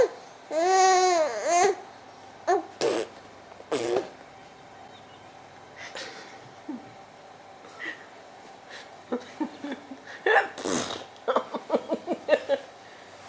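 An infant girl makes annoyed, grumbling vocal sounds, a wavering whiny cry followed by scattered short fussy grunts and squeals, close by, with brief adult voices mixed in.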